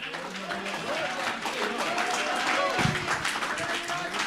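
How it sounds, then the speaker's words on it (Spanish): A church congregation at an annual retreat breaks into steady applause, a broad dense wash of clapping with voices mixed in throughout. "Dale un fuerte aplauso al Rey"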